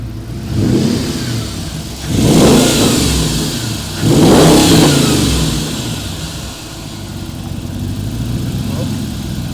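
An Audi RS4 van engine gives quick throttle blips, rising in three loud, broad revving surges over a steady running idle. Voices seem to be present faintly in the background.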